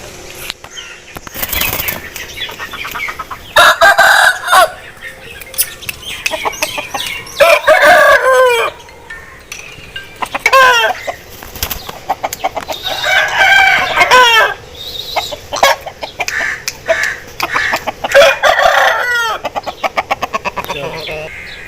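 An aseel rooster with a dry, hard throat crows several times, each long, strained call standing out clearly against quieter clucks, wing flaps and faint background talk.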